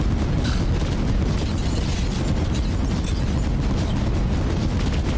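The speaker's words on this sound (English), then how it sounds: "Are they shooting? Oh no, it's torpedoes." Heavy rumbling explosions from torpedoes in the video game Neon Sundown, a dense continuous low boom that fills the whole stretch with no pauses.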